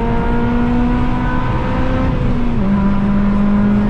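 A car engine runs loud and close on a track, holding a steady drone that climbs in pitch as it revs, continuous throughout with no talking.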